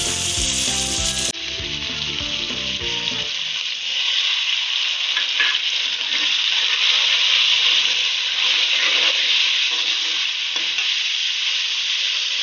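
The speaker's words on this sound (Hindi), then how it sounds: "अब हम इसमें कटे हुए टमाटर डालेंगे।" Chopped tomatoes frying in a pan for a mixed vegetable salan, a loud, steady, close sizzle with faint stirring, following a short burst of other sound at the start.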